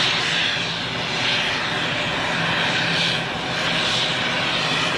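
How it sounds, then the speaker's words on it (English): Airbus A320 jet taxiing at Zurich Airport, a loud steady engine roar with a whining hiss that swells and eases slightly, heard alone without voices. "a Lufthansa A320 is taxiing in"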